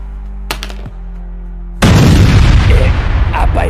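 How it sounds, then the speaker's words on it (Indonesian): A low rumbling hum with a couple of faint knocks gives way to a sudden, loud bomb blast in a mafia action film, which roars on as a sustained wall of crackling noise. "Semuanya ada ledakan bom."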